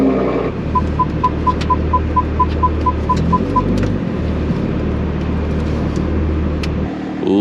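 A Toyota Supra idles with a steady low engine drone as it rolls slowly into a courtyard, with a brief series of evenly spaced high chimes, likely a warning chime, over the first few seconds and the engine cutting off near the end.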